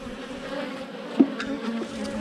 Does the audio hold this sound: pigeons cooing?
no